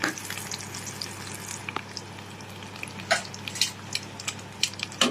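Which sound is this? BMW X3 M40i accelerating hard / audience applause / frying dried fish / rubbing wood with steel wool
frying dried fish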